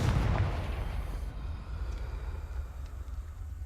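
A Confringo fire spell blasts in the Hogwarts Legacy video game, a loud burst at the start that decays into a rumbling, crackling low roar over a few seconds, with no talk.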